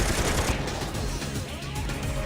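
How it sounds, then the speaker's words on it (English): Gunfire in the video game Persona 3 FES is a dense, loud burst of rapid shots packed together with little space between them, close and harsh across the whole moment. "Gunshot."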